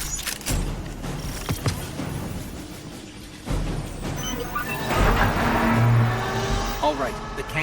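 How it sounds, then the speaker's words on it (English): Cannon aligning in the Destiny 2 video game: mechanical clanks, creaks and heavy thuds, then a rising grinding hum near the end, with a voice speaking over the machinery. "All right, the cannon is aligning."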